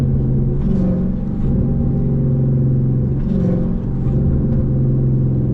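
A Toyota RAV4 engine droning low and steady inside the cabin while driving, a continuous rumble with a couple of brief bursts that may be exhaust pops.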